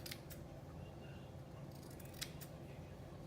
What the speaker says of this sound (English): I'm going to trim the seam allowances of the ties